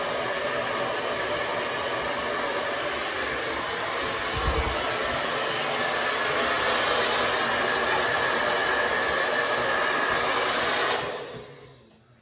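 A hair dryer blows steadily on a non-surgical hair replacement system set on a block, a loud continuous close whoosh that shifts slightly in tone as it moves, then cuts off and winds down at the end.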